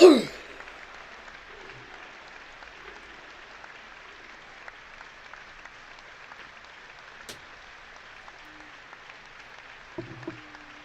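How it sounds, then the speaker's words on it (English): Distant stadium crowd applauding steadily before a Swansea City versus Sunderland football match, a soft sustained wash of clapping with a brief sharper burst at the start and faint low sounds near the end. "They're doing a minute's round of applause."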